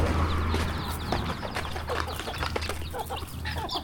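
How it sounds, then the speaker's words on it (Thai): Chickens cluck in a backyard on a Thai rice farm. Several birds make a busy, overlapping chorus of clucks close by over a steady low hum, with no talk. "ไก่หลายโตเติบได้พี่น้อง"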